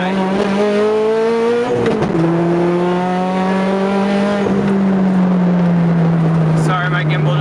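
A turbocharged RocketBunny FRS with a GTX3076R turbo accelerates hard on a low 6 to 7 PSI boost setting. The loud, close engine note climbs through the gears, dropping briefly at each shift before rising again.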